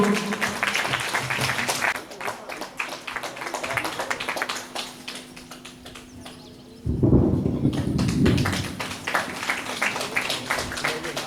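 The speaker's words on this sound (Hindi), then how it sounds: "आप सबके तरफ से तालियों का गड़गड़ाहट हो।" An audience claps at a free yoga camp in Dondi Lohara, Balod district. The applause is a steady, dense patter that lasts several seconds and swells louder near the end, with faint voices mixed in.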